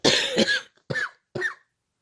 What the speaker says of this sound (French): la toux, elle est pas super belle là